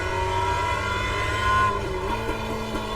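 Mazda MX-5 race car engine droning steadily at high revs, then changing pitch as the driver shifts up to third gear, loud and close throughout with no voices.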